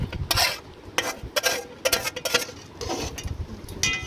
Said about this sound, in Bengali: হাঁড়ির মধ্যে ভাজা ডাল দিয়ে দিলাম এবং ভাজা সবজি দিয়ে দিলাম দিয়ে একটু নেড়ে চেড়ে নিলাম